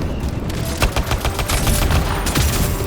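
Rockets fired by a flying javelin suit in the video game Anthem: a loud, dense volley of rapid blasts and cracks, close and continuous over about three seconds.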